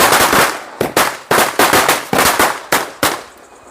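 Red Murga brand firecrackers burst in a rapid string of sharp, loud cracks at irregular intervals, each bang decaying briefly before the next, during an outdoor Diwali celebration in the mountains.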